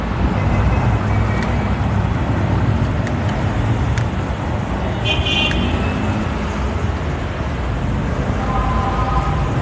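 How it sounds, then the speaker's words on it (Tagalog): Busy road traffic on a Saturday, a dense, loud rumble of car engines and tyres that continues throughout, with a few short horn toots breaking through near the middle and toward the end. "Saturday pero traffic."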